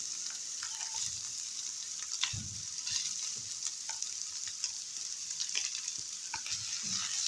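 Steady sizzling of bulgur frying in a high-sided pan, with soft scraping strokes of a spoon stirring every second or so, close up and without talk.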